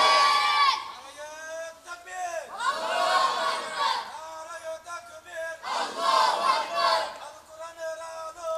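A crowd at an Islamic sermon chants a slogan in loud unison, repeated rhythmic shouted phrases swelling and falling in several waves.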